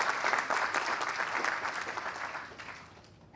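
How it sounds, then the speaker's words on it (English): Audience applause at a San Francisco municipal transportation centennial celebration, a dense steady wash of many hands clapping that holds throughout and slowly fades toward the end. "If you give him a big round of applause"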